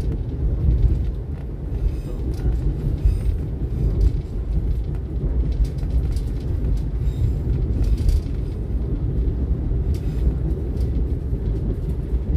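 A train rumbles through the Karangkates tunnel, heard from inside a carriage as a loud, continuous low roar with rattling and clattering wheel noise throughout.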